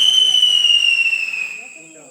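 A firework whistles high and steady for over a second as it rises and fades away, during Diwali celebrations at Sheetla Dham ashram in Kutch, with faint sounds underneath.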